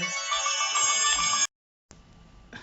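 A mobile phone ringtone plays loudly as a steady, bright electronic melody, cuts off abruptly into silence, then a faint room tone returns.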